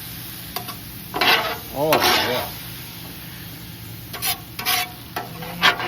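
Thawed frozen broccoli stir-fry vegetables sizzle and get stirred in a hot pan, a steady frying hiss with scraping bursts, while a person makes a brief exclamation.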